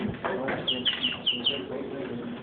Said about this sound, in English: We seriously hear a bird.